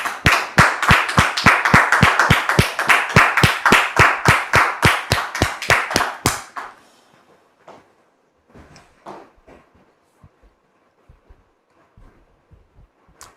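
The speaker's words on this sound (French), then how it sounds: "sous vos applaudissements, s'il vous plaît" A television studio audience breaks into brisk, steady clapping that fills the first six seconds, then stops abruptly, leaving a quiet room with a few faint, scattered sounds.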